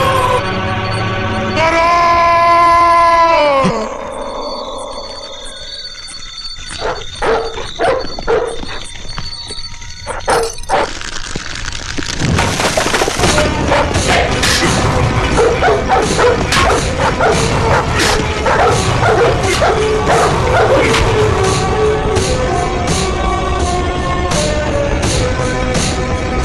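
Several dogs bark, yip and whimper through a long, loud stretch of a Hindi action film scene, mixed with swelling dramatic score and sharp impacts.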